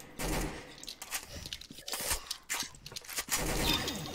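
Rapid bursts of gunfire in the video game Arsenal, with irregular, fairly quiet volleys of shots and sharp cracks crowding one another over a few seconds.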